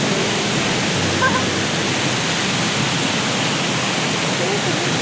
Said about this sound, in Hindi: नकुरू वाटरफॉल जो अभी पूरा बारिश के पानी से